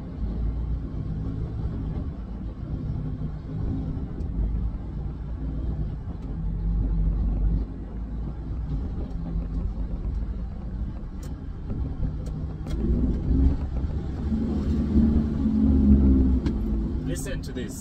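A heavy FAW JH6 truck engine, 500 hp, drones steadily at low pitch while driving, rising a little as it pulls, with faint clicks and rattles over the rumble.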